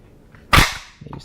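A Zastava Model 70 rifle's bolt slams forward and locks open on an empty magazine, one loud sharp metallic clack up close, followed by faint small rattles.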